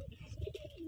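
Rajshahi Giribaz pigeons coo faintly and briefly inside a loft in Godagari, giving a soft low murmur heard from some distance.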